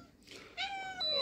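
A cat meowing indoors in a home, one short drawn-out meow that rises in pitch, close and fairly clear against faint background talk.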